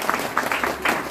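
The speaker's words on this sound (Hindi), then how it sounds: "एक बार जोरदार ताली हो जाए" Audience applause at a network marketing seminar, a short dense burst of clapping from a crowd, fairly loud and close, with a voice faintly mixed in.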